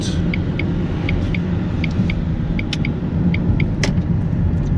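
A car climbing slowly uphill on a mountain road toward a ski resort, its engine giving a steady low rumble throughout, with faint intermittent ticking over the top.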